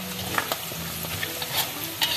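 Sambal goreng with beef and chicken frying in oil, sizzling steadily with frequent stirring scrapes, close up and without talk.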